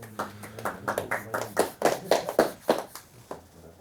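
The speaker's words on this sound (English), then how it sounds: "Applause for that." A short burst of hand clapping from a small group, uneven and fairly close, rising briefly then tapering off after a few seconds.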